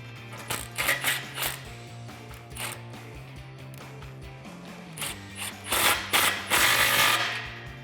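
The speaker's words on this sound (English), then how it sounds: "Now you can tighten up that clamp." A ratchet tightens an exhaust clamp on a Borla Stinger S-Type exhaust system, with close, rapid clicking in repeated bursts of several strokes and brief pauses between them.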